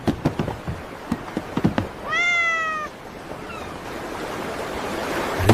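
A cat lets out a single clear, drawn-out meow at close range, followed by a fainter short meow, between scattered knocks and bumps over a steady rushing background noise, with no talking.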